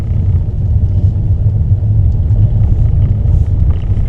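A Mercedes-Benz E-Class sedan's small four-cylinder 184-horsepower engine runs steadily, a loud continuous low rumble with no speech.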